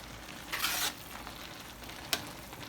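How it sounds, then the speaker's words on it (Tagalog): Palabok noodles tossed with crushed chicharon make a soft scraping, sizzling-like stir in two bursts, one longer and one a quick sharp clink, with no talking. "kailangan lang haluin mabuti para ma-spread yung yung chicharon para hindi siya magbuo-buo"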